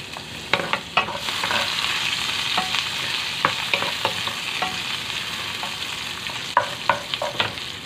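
Eggplant omelette (torta) and tomatoes fry in splattering oil, a steady sizzle broken by repeated sharp pops and crackles throughout, close and fairly loud with no voices.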